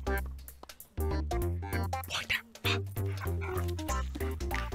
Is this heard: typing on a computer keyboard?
no